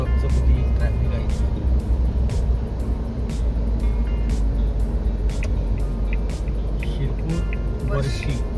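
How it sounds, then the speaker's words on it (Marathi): Heavy truck traffic on a highway in India, heard from inside a moving car as a steady, loud rumble of engines and tyre roar that runs throughout, with occasional brief higher hisses like air brakes. "हे बघा ट्रकचं किती ट्रॅफिक आहे"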